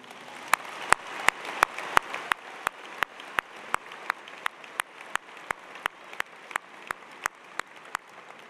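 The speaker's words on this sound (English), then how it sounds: "Please join me in congratulating them with a round of applause." Audience applause at a college of engineering commencement ceremony, heard as sparse, evenly spaced sharp claps over a soft, distant crowd background, fairly quiet throughout.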